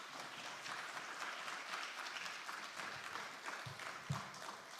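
A church congregation applauding at a Thursday worship service in Seoul, a dense, steady wash of many hands clapping, heard somewhat distant and soft throughout.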